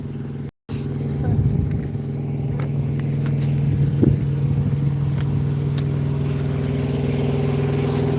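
A truck engine idles steadily up close with a low, constant hum and a brief rev partway through, while people talk nearby.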